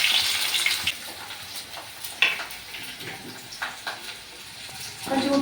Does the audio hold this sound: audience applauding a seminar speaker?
no